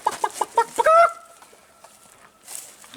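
A rooster clucks several times in quick succession and then lets out a short, strained crow, nearby and fairly loud.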